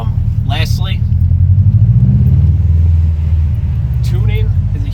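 A 2018 Subaru STI with a catback exhaust and an otherwise stock engine drones and rises in pitch under acceleration, heard from inside the car, with someone talking briefly over it.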